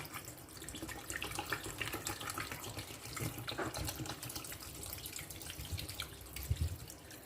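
Water runs steadily from a tap into a pot for boiling to make spicy Thai beef soup, a continuous close splashing and trickling stream lasting several seconds.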